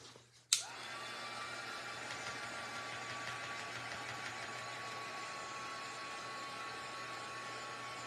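A heat tool clicks on and blows a steady, close, even whirring roar to dry embossing ink, holding without change to the end.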